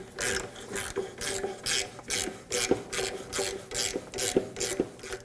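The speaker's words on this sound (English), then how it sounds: "we can go ahead and tighten down our bolt" A hand ratchet tightens a bolt while a power running board motor is being installed on a 2009-2014 Ford F-150. It makes steady, repeated bursts of rapid clicking in an even back-and-forth rhythm, up close, with no talking.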